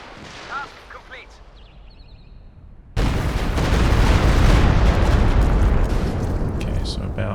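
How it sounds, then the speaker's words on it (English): Rocket creeping barrage from the Company of Heroes 2 strategy game: a sudden loud roar of launches and explosions erupts and keeps rumbling dense and continuous, after a short stretch of shouted voice commands. "Ready rockets! Creeping barrage! Fire!"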